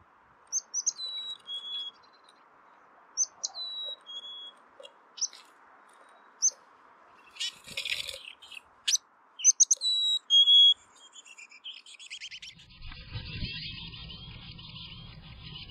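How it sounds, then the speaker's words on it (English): Black-capped chickadee nestlings in a nest box give short, high begging calls in scattered bursts over a faint steady background, with louder clustered chirps midway and a rustling, scratchy noise toward the end. "How vocal they were, using that cute begging D-call almost constantly."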